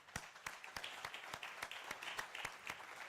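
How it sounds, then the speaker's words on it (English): Audience applause at a live event, heard as regular, fairly sharp handclaps of a small group, quiet and somewhat distant, continuing steadily without voices. "Warm round of applause"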